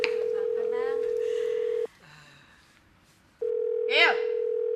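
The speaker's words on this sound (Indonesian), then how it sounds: "angkat tuh telepon" A telephone rings with a long, steady electronic tone that stops for a moment and then resumes, while people talk over it nearby.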